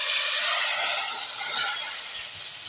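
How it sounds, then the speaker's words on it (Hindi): Hot cumin tadka hits a pot of mixed moong and masoor daal with a steady, loud sizzling hiss that slowly fades over a few seconds, with no voices. "तड़का हमारा जो है वो रेडी हो चुका है। अब इसको हम दाल पे लगा देंगे"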